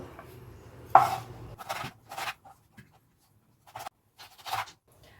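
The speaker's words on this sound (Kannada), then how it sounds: "ಈ ಒಣ ಮೀನು ನಂಗೆ ಮೀನು ಕಟ್ ಮಾಡಿದೆ ನೋಡಿ ಈ ತರ ಪೀಸ್ ಮಾಡಿದ್ದೇನೆ" A knife chops dried fish into pieces in a home kitchen, giving a handful of sharp, close cuts separated by short pauses, with no talking.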